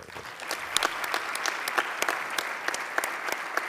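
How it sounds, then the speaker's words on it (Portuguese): A seated audience at the Correntes d'Escritas literary festival gives steady, moderately loud applause in honour of Raul Solnado, with individual claps standing out in the dense patter. "a quem peço uma salva de palmas agora"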